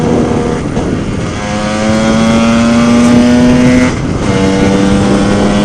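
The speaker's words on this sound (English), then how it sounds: "pulling 4th gear up this hill and accelerating" A Lambretta scooter fitted with a Simonini 260 engine pulls hard uphill in fourth gear, its loud two-stroke note climbing steadily in pitch, dipping briefly at a gear change near four seconds, then droning on.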